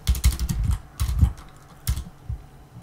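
Fingers tap a computer keyboard in bursts of quick keystrokes with short pauses between, close and fairly loud, with no voice over them.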